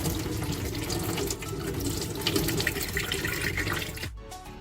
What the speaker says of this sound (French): Je vais égoutter mes pois d'Angole dans un panier.